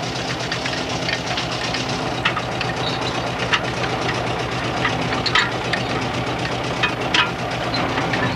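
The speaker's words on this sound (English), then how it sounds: "and at last the main engine restarts" A coastal cargo ship's main engine runs steadily after being restarted, its loud continuous mechanical drone carrying rhythmic knocking and clatter with no voices over it.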